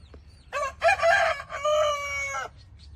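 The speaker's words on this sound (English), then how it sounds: "And our rooster crows." A rooster crows once, loud and near, a drawn-out multi-part cock-a-doodle-doo lasting about two seconds over a quiet background.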